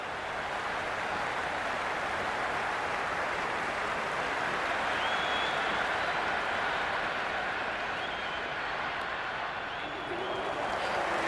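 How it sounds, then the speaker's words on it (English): A large, excited crowd at a cricket stadium makes a loud, continuous roar of cheering and applause that stays steady for over ten seconds, with faint whistles rising above it. "It's evident and ever so audible that the crowd is at near bursting point with excitement"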